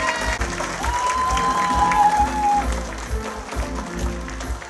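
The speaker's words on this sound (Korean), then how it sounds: "큰 박수로 환영해 주시기 바랍니다." Steady crowd applause at an Incheon United fans' day event greets a guest being introduced, sustained for several seconds with a faint tonal whistle or feedback line briefly rising above the clapping.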